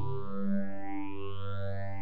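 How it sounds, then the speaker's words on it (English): A phased Thor synthesizer tone from Reason 5 sustains, its harmonics sweeping steadily upward in a smooth, whooshing phaser motion, alone and fairly quiet. "That's just my phased sound."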